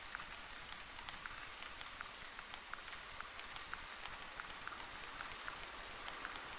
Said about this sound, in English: Great, starting to rain.